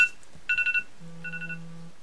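A mobile phone gives off a short electronic alert: a quick burst of repeated bright beeps, then a lower sustained tone with a second run of softer beeps over it, close and fairly quiet with no talking.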